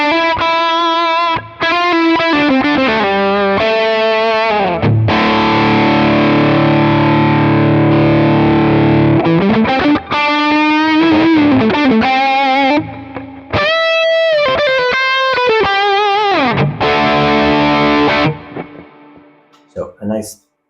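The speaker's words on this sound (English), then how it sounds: "you can hear it's got a lot more grit" A heavily distorted electric guitar lead through a Quad Cortex capture, with sustained bends and fast runs, loud and gritty, with a few pauses before fading out.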